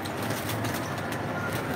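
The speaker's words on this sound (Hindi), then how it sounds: "कमगर कबूतर जो कि इनके कलदुम्बों के नाम से मशहूर है" Kamgar pigeons coo in a breeder's loft, a low, steady burbling murmur held throughout with faint background hum and no clear talk.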